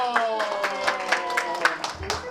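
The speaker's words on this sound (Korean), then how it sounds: "박수 주세요" Scattered hand claps from a small group at a Korean first birthday party in a hotel, brief and fairly close, sounding as a short burst of polite applause.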